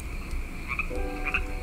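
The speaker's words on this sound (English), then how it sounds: "Why do I hear frogs?" Frogs croak in short, repeated bursts over a steady ambient hum and low background noise, faint and moderately distant.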